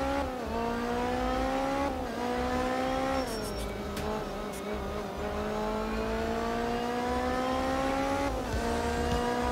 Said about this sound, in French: pendant l'intermède, j'essaie toujours de me taire pour que vous ayez un peu le son du moteur sans rien d'autre